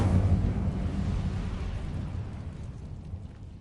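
A fire spell cast in a wizarding video game erupts as a loud, roaring whoosh of flame that starts strong and then rumbles and fades over a few seconds, with no talk over it.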